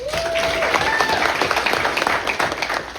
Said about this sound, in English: Clapping out for Uncle Buck.